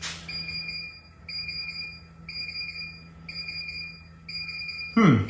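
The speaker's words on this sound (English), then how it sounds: "the power chiller was left turned on. So that's why that's beeping like crazy" The power chiller of an AccTek AKQ-1500 laser rust remover beeps repeatedly in a steady rhythm, five long high-pitched tones over a low hum, ending with a short clunk.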